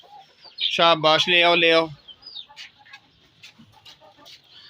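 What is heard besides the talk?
chickens clucking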